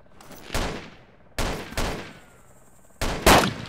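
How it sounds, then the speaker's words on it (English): Bursts of gunfire in the zombie survival game DayZ, three loud separate volleys a second or so apart, each with a sharp crack and a fading echoing tail, close and clear with no talk. "Shooting."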